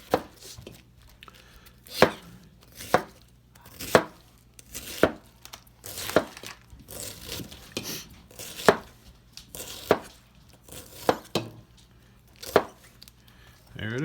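A knife chops cabbage for mason-jar sauerkraut in sharp, regular thuds about once a second, with brief quiet talk between some cuts.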